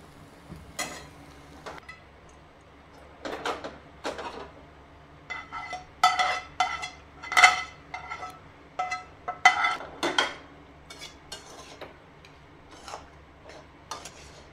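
A spoon stirs fried bitter gourd seeds into a filling in a kadhai, making repeated metallic scrapes and clinks in uneven bursts against a faint background hum, with no voice.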